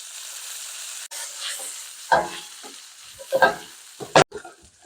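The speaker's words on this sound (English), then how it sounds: "We're going to cook these onions over a medium heat, sweating them" Onions sweat in a pan over medium heat with a soft, steady sizzle, broken by a few louder scraping stirs near the end.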